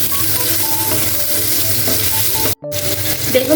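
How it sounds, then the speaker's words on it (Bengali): Eggplant slices fry in a pan over a low flame, giving a steady, fairly loud sizzling hiss that cuts out for a split second near the end. "বেগুন ভাজা হয়ে গেছে"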